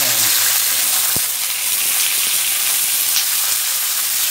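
Onions sizzle and fry in a pan for chicken curry, giving a loud, steady hiss with a sharp clink partway through.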